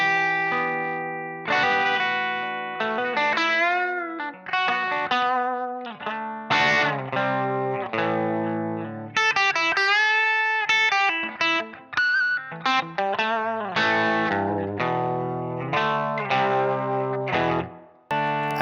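Electric guitar through a Line 6 Helix modeled WhoWatt 100 amp and cabinet, playing expressive melodic runs and bends with a slightly driven, reverberant tone, no talking.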